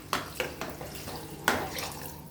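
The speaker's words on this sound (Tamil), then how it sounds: "2 கிளாஸ் தண்ணி ஊற்றிக்கிறோம் நாங்கள்." Water pours into a cooking pot of rice, onion and tomato for a plain tomato biryani, with a few short splashy bursts and one stronger splash near the end over a low background hum, fairly quiet and without talk.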